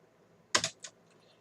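A short burst of three or four quick keystrokes on a computer keyboard, close and crisp against a quiet room.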